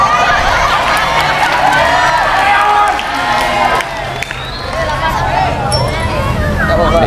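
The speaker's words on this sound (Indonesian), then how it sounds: "tepuk tangan" Students at a Friday morning school assembly clap and cheer in a loud, dense burst that dips briefly midway and then swells again, with crowd chatter mixed in.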